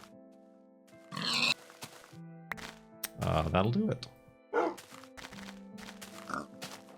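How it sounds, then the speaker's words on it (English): Minecraft pigs grunting and oinking in a few short bursts alongside soft keyboard clicks, with someone talking over them. "Ah, pigs"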